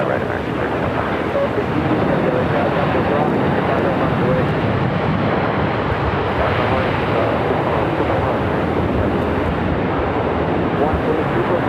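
An American Airlines jet takes off from runway 25 right at LAX, a loud sustained roar with wind buffeting over the whole stretch.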